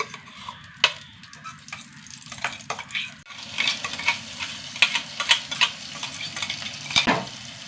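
A paste of ginger, garlic and shallot frying in hot coconut oil in a pan, with a close sizzle, irregular spatula scrapes and occasional clinks against the pan, unevenly loud and without speech.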